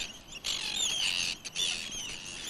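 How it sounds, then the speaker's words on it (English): Arctic terns call over their nesting area on the island of Foula, a few shrill, grating cries rising from a constant chorus of distant calls. "The Arctic terns settle down, their nesting area once again secure for the moment."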